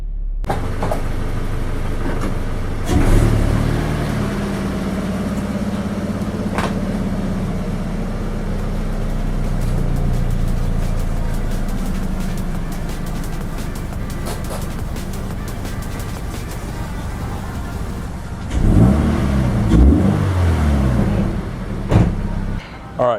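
A Subaru BRZ fitted with a GrimmSpeed intake, heard from inside the car, idles with a steady low rumble, broken by two short revs that rise in pitch, one early and a louder one near the end.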